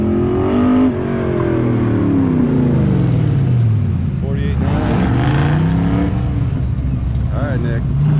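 A Pro Touring Camaro accelerates hard through a road course crossover, its engine revving loudly in rising and falling pitch sweeps that rise as it draws near, with excited commentary over it.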